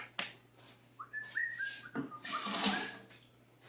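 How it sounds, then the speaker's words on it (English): Running tap water briefly splashes as a spoon is rinsed in a kitchen sink, a short close gush with a faint whistling tone over it. "let me rinse my spoon again"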